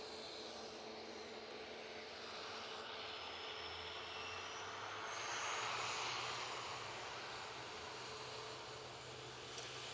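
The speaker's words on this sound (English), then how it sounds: "Aer Lingus Etihad now on the roll." A distant airliner on its takeoff roll at Manchester Airport produces a broad, steady roar of engine noise that swells gently midway, heard from afar with no talking.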